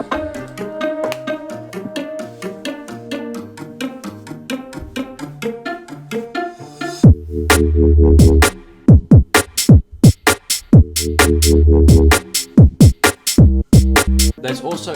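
UK garage track remade in the style of another track, with a busy tonal intro giving way after a few seconds to a punchy beat of thumping kicks, deep bass and stabbing chords, loud and continuous.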